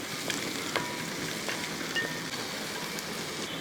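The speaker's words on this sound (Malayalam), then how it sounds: "ആ ക്യാപ്സിക്കാൻ കൂടി ഒന്ന് ഇളക്കണം ഇതേപോലെ ഒന്ന് ഇളക്കി കൊടുക്കുക" Chopped capsicum being stir-fried in a pan for chicken fried rice gives a faint, steady sizzle with a few light scrapes and taps from stirring. No one talks.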